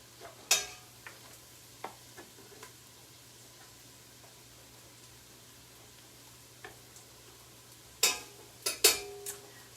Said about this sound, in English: let's put our garlic in with our onion and tomato paste.